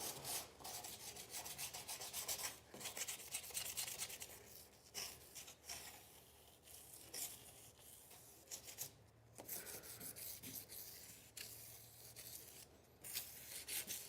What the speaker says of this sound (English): We're just pretty much roughing up the clear coat